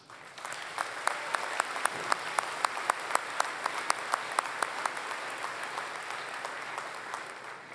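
Ceremony audience applauding at a university spring commencement, a steady wash of many hands with a few sharp nearby claps standing out, moderately distant, running continuously without talk.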